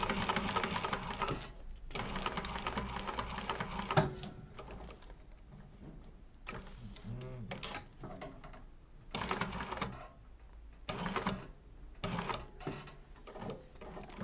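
Sewing machine top stitching around curves while being hand cranked, giving bursts of mechanical stitching clatter that start and stop in short runs, close and moderately loud, with no talking.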